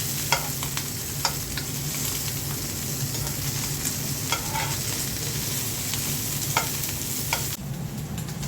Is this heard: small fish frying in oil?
yes